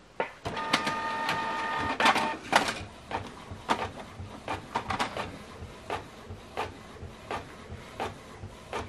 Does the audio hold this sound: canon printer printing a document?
yes